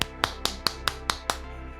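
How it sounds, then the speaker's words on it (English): Seven sharp hand claps come close to the microphone in an even, quick rhythm, roughly four or five per second, with no one talking. "So I can clap."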